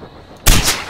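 A single loud gunshot in the video game Far Cry 4 blasts suddenly after a moment of near silence, its boom trailing off briefly.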